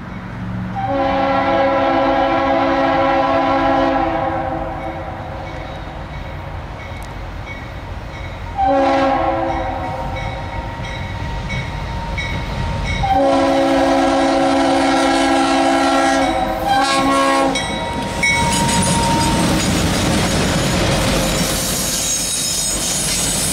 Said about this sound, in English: Here we have Norfolk Southern 234 eastbound here at Shell Road in Chesapeake.